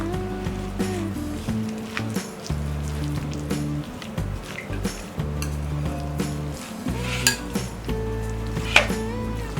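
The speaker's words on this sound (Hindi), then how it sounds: "मिक्स कर देते हैं।" A spoon clinks and scrapes in a bowl while mayonnaise, black pepper and vegetable sandwich stuffing are mixed, with repeated close taps and knocks over a continuous tonal hum.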